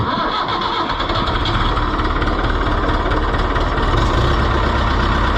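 Oliver 1365 tractor engine cranking and catching, then running steadily in neutral, a loud, close, continuous diesel rumble that holds throughout with no talk.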